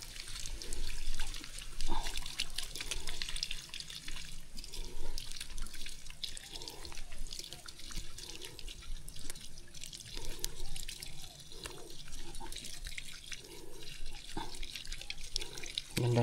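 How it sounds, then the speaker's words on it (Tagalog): A strong natural spring pours out water in a continuous gushing flow, with rhythmic pulsing gurgles and splashes rising above the steady rush, close up and without any talking. "Ang lakas ng kundo ng bukal na yun."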